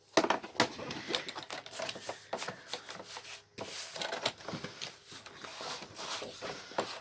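Scissors or a paper trimmer cutting through a 12x12 sheet of craft paper at a desk, a rapid run of crisp snips and rustles, close and fairly quiet, with brief pauses.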